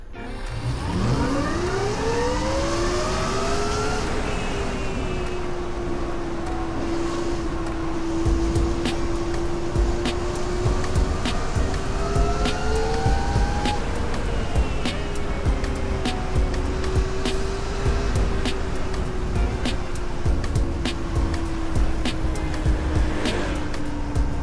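A car pulling away from a standstill during a speed calibration test, engine note rising through several gear steps with a long sustained drone, moderately loud and steady, with faint background noise and no talking.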